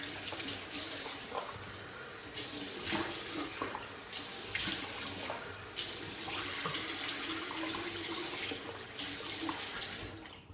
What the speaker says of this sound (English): Let's rinse the face